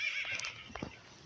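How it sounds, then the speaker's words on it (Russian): A horse in the video game Block Craft 3D gives a short, bright whinny, a single quick neigh heard alone and fairly faint. "там где-то лошадь была"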